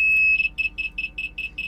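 Boat low-oil and depth alarms sounding as the key turns on an inboard/outboard motor: one steady high tone, then a rapid string of evenly spaced short beeps, close and clear with no talk.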